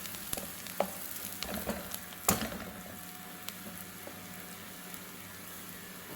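Chopped onion hitting hot oil in a pan, a soft continuous sizzle punctuated by a few sharp crackles and clicks, fairly quiet with no voices.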